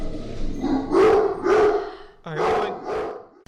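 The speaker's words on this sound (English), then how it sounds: "The dog went completely bonkers because another dog ran by the front of the house" Pet dog named Molly barking indoors at another dog passing outside, a few loud, close barks and yips in quick bursts with brief pauses between.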